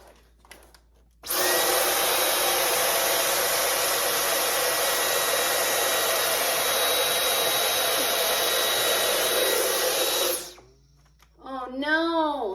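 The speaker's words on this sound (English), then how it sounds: "vacuum that register thing" A cordless vacuum cleaner runs steadily at close range for about nine seconds while cleaning a floor register above a piano in a basement, then cuts off abruptly as it dies, followed by brief talking.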